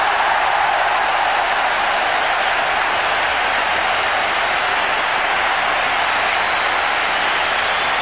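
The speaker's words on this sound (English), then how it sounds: "Listen to the crowd." A large cricket crowd at a 1996 World Cup semi-final roars and applauds a boundary shot by Sachin Tendulkar on 49, a dense, sustained wash of clapping and cheering at constant strength, loud and continuous throughout.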